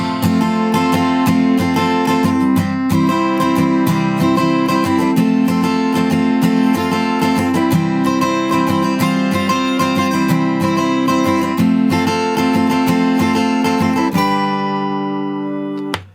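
Acoustic guitar strummed with a pick through the chorus of a song: steady, full chord strumming at constant level that rings out into a final sustained chord, with no voice.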